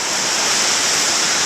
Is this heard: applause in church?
no